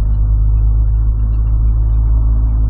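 A Volkswagen Golf's exhaust rumbles steadily up close, a deep, loud, continuous low drone as the engine is held at revs, with no voices over it.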